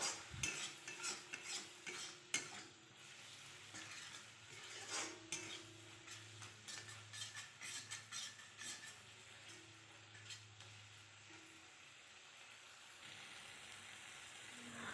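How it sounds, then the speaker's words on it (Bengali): Fried vegetables being stirred into a tomato spice masala in a pan for a paneer dish, with repeated scraping strokes of a spoon and faint sizzling throughout, fairly quiet and close. "মশলাটাকে আর একটু ভেজে তার মধ্যে সবগুলি ভেজে রাখা সবজি দিয়ে দেব"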